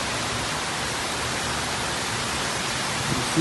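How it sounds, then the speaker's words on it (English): Steady rain pours down outdoors in Grand Cayman as a broad, even hiss of close, dense drops with no pauses or talking. "Holy moly, it's raining."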